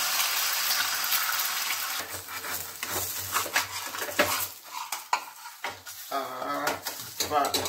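An egg poaching in a pan gives a steady close sizzle, broken by scraping and clinking of a utensil against the pan as the frying goes on.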